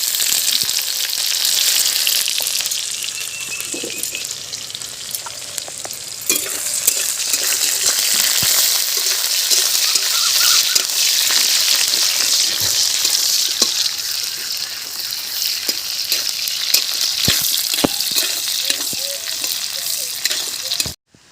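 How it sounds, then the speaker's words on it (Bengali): Onions, bay leaf, black cumin and fennel fry in hot mustard oil, a loud, steady sizzle with frequent scraping stirs and clinks of a utensil against the pan, close up and without talk. "সর্ষের তেল গরম হয়ে গিয়েছে, এবার পেঁয়াজ দেব। তেজপাতা দেব, কালো জিরে মৌরি একসাথে দেব।"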